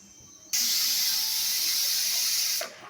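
A pressure cooker with curry inside vents steam in one loud, steady hiss that starts abruptly, holds for about two seconds and then cuts off.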